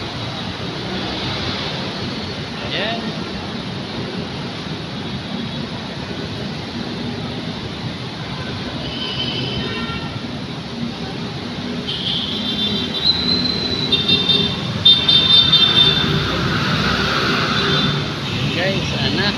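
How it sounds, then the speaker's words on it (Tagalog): An LRT train on the line toward Recto station approaches the platform with a steady rolling rumble and faint wheel squeal that builds slightly toward the end, under station crowd noise and a person talking. "Parating na yung tren."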